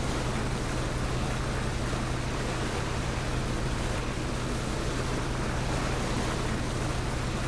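Water splashing and churning after a player jumps into the water in PUBG, a steady broadband wash of surf-like noise with a constant low hum underneath, no speech.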